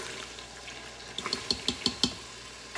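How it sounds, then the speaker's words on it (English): Minced garlic, two tablespoons, goes into melted butter in a pan for seafood pasta: a steady low sizzle, then a run of sharp clinking stirs and scrapes of a utensil against the pan, close by, with no talking. "Add my 2 tablespoons of garlic."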